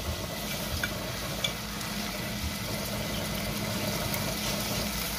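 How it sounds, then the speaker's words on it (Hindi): Onions sautéing lightly in hot oil for a homemade palak paneer, giving a steady low sizzle with soft stirring scrapes, close and continuous with no talking. "अब मैं ऑयल गर्म होता है तो मैंने प्याज हल्के से सोटे करने हैं"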